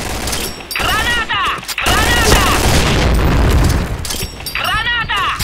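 In the shooter Point Blank, a grenade goes off with a loud booming burst amid rattling gunfire and game effects, while players talk over the action.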